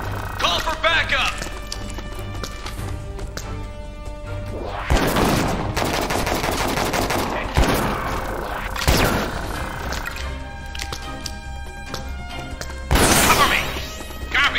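Gunfire in the video game Disaster: Day of Crisis in subway city streets: sustained bursts of automatic fire and sharp crashing impacts, loud and dense throughout, with in-game voices mixed in.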